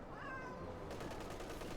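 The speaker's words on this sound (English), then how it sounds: "And yes, that was a cat meowing." A cat meows once, a faint rising-and-falling cry mixed into loud, noisy Company of Heroes 2 game sound with bursts of rapid gunfire.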